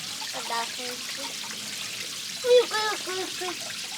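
Water runs steadily from an outdoor water pipe in Montenegro, a continuous soft hiss under people talking nearby.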